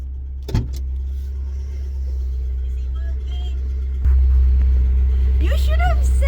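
A truck with freshly freed, previously rusted clutch plates idles and then pulls away with a low, steady engine rumble that swells partway through, while people talk nearby.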